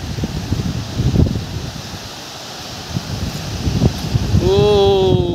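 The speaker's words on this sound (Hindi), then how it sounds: "आप देख सकते हैं कितनी जोर से हवा चल रही है" Strong wind blowing in a jungle during a storm, a loud continuous rushing roar with gusting swells and microphone buffeting, and a brief tonal whine near the end.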